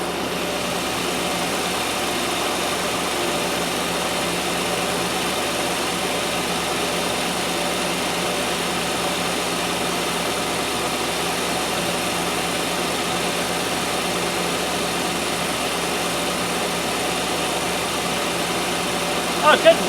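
A 1997 Land Rover Discovery 1 idles steadily, oil freshly topped up and smoke burning off the manifold as it warms, a continuous even rumble with a constant hum that holds unchanged throughout, with a couple of brief knocks at the end.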